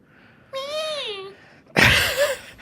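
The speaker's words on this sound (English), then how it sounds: "That sounds like a cat." A clear, close cat meow with a rising and falling pitch, followed by a louder, rougher second meow.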